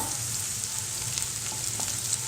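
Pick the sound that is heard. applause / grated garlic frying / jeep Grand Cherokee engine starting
grated garlic frying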